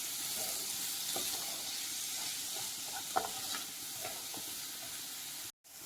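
Coconut paste for a theeyal curry is stirred in a hot pan, a steady soft sizzle with faint scraping clicks, heard close and quiet with no voices.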